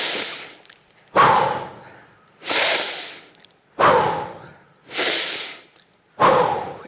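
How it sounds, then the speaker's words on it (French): Five strong, forceful breaths in a dynamic breathing exercise at the close of a guided nap session, evenly spaced about every 1.3 seconds, each a loud, close, breathy rush that fades out, with no talking. "on va refaire 3 respirations dynamiques"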